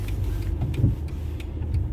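A Moto Guzzi V85TT motorcycle rides along, its engine giving a steady low rumble with road and wind noise throughout and no talk.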